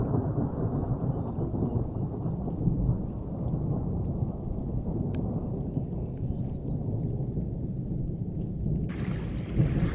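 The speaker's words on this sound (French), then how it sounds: "les orages sont arrivés, avec des tonnerres interminables" Thunderstorm at a wild campsite with a long, continuous rolling rumble of thunder over steady rain, loud and close, with a sharp crack midway and a rain burst near the end.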